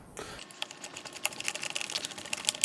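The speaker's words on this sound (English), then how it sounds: "we want to feed a screw back into the hole there and tighten it down" Small screw clicking and ratcheting as it is driven into a plastic fan housing on a Honeywell TurboForce fan, a quick run of close, light, irregular ticks and taps.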